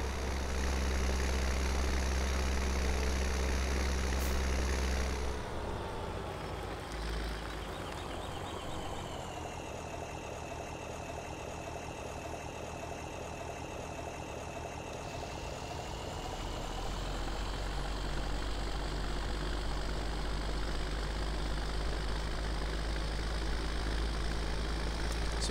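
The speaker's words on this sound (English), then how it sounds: "this rake could be pulled by this tractor without any issue whatsoever" Steady tractor engine from a farming video game, running continuously while pulling a rake, loud and droning with a slight dip in pitch and level midway before settling back.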